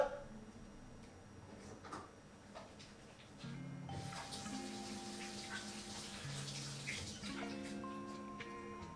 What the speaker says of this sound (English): Is that the waterfall you're talking about?